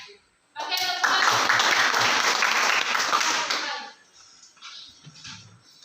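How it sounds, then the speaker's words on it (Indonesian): A classroom audience breaks into loud, dense clapping after a group presentation. The applause lasts about three seconds, then fades into quieter murmuring and movement. "Oke, tepuk tangan."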